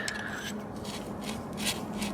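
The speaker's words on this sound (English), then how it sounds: "ream it out just a tiny bit." Quiet scraping and rasping of a reamer enlarging a screw hole for a Subaru Crosstrek fog light install, in short repeated strokes close by.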